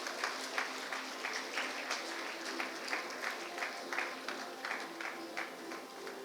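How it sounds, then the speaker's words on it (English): Audience applause fills a hall during an honoring ceremony at a school association's silver jubilee celebration. Dense, steady clapping runs the full length with no voices, swelling in small regular pulses. "Please give a huge round of applause"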